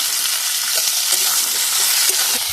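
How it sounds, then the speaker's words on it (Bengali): Papaya fries with other vegetables in hot oil, a close, steady sizzle with frequent soft stirring scrapes across the short stretch. "এবার পেঁপেগুলো দিয়ে দেবো"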